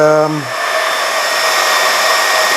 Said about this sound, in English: Then you switch on your compressor, your power supply